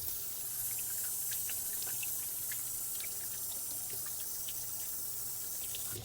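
Tap water runs steadily and close by while hands are washed at a kitchen sink, a continuous rushing splash with small irregular spatters and no talking.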